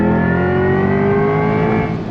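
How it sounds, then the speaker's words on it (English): A 2024 Chevrolet C8 Corvette E-Ray's V8 roars hard under acceleration with paddle shifts, a loud, steady, rising engine note held throughout without a break. "The roar of that V8."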